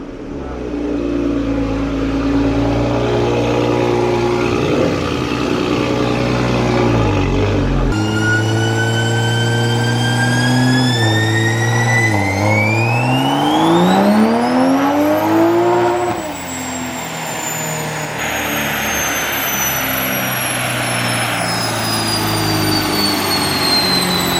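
A 2020 Toyota Supra fitted with a bigger turbo roars loudly and steadily on a dyno, its engine note climbing in pitch through each gear, with a brief dip partway through before it pulls again. No one speaks.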